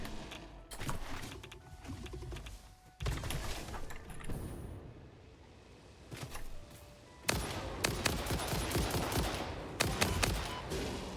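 Shotgun blasts in the video game Satisfactory arrive in bursts of sharp reports, with loud clusters near the start and again toward the end, separated by quieter stretches of game ambience.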